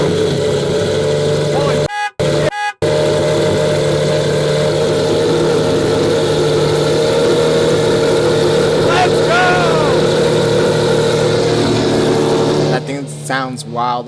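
A car engine idles loudly with a steady low rumble, briefly cut off twice early on, with short bursts of talk near the end.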